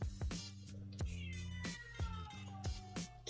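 A house cat meows close by in several drawn-out cries, with sharp thumps and taps around them, during a quiet indoor moment.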